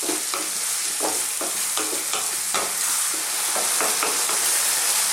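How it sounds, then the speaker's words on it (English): Chilli mixture is stirred in a pan over medium heat, with a steady close sizzle of frying under repeated scraping strokes of the spoon, no voices. "Keep stirring."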